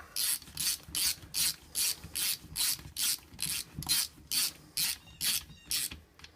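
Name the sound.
ratchet tightening bolts on a Hurth transmission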